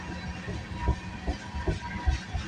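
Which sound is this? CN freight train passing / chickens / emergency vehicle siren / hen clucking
CN freight train passing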